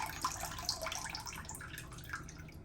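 Water drains quietly from a 1958 Hotpoint Empress washing machine into a sink, trickling and dripping in soft, close, uneven splashes.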